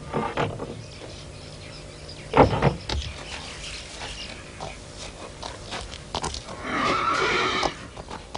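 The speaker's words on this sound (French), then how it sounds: "Regarde, c'est à toi, c'est ton poney." A pony whinnies loudly up close, with shorter snorts and nickers around it and a final long neigh, set against a quiet indoor background.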